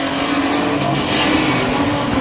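Street stock race cars accelerate off the start of a feature race, a dense, loud roar of several engines blending together and holding steady throughout.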